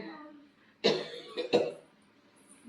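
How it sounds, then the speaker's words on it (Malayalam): A person nearby coughs a few times in short, sharp bursts, with a brief pause between them, in an otherwise quiet room. "അമ്മ വരെ ചുമച്ചു പോയി കേട്ടോ"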